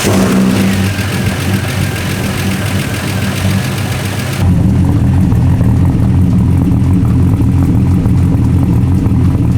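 A turbocharged Ford Falcon engine idles loudly and close by with an uneven, lumpy rhythm, the chugging pulses clearly audible throughout.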